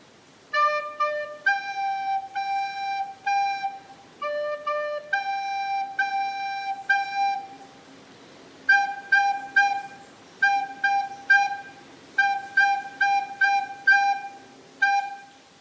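A recorder plays the third line of Old MacDonald alone, clear breathy tones in short repeated notes and quick pairs with a steady rhythm, close and fairly soft.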